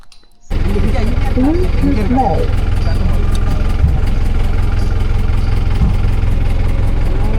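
A four-wheel-drive jeep engine starts abruptly and then idles steadily with a loud, low, throbbing rumble on an off-road forest track, close by. A voice talks briefly near the start.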